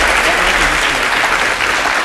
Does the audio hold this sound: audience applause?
yes